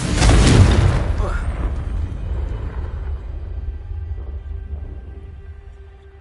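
A Confringo blasting spell explodes in Hogwarts Legacy, a loud, close boom at the start that fades into a long rumbling decay.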